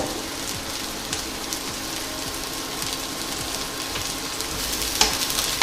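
Chopped mushrooms hit hot oil in a wok and sizzle steadily, a loud, dense hiss with fine crackles that continues unbroken throughout.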